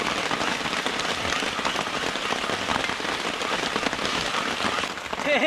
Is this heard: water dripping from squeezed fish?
no